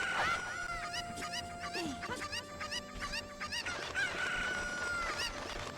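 Cucco chickens cluck and crow repeatedly in Zelda: Ocarina of Time, sharp, close, and fairly loud, with short squawks overlapping a steady game background tone.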